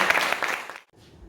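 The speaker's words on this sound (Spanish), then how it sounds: "Un aplauso para ustedes." Audience applause at a poetry reading, a dense burst of clapping that fills the room for under a second before cutting off abruptly, leaving quiet.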